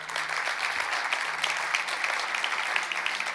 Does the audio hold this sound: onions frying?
no